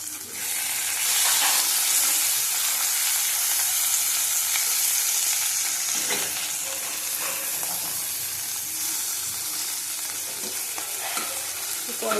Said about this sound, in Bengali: এই কড়াইতে মাছটা ভালো ওঠে, তোমার বড় কড়াইতে মাছটা ভালো ওঠে না, তাই জন্য আমি এই কড়াইতেই ভাজি